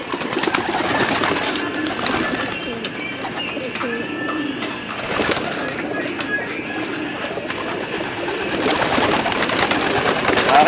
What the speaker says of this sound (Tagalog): Isa ito sa mga paborito kong kalapate.